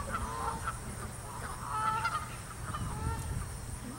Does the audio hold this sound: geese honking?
yes